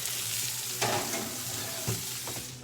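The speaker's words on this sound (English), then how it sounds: "We're going to give them a flip. Look at that sear." Steaks sear in a pan on a stovetop with a quiet, steady sizzle, and two brief louder bursts come as the meat is flipped or moved.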